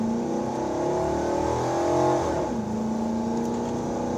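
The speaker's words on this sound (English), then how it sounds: "say I keep it in first and roll it," A 1996 Chevy Impala SS accelerates in first gear, its engine note rising steadily then dropping and settling into a smooth, close, continuous drone with no talking.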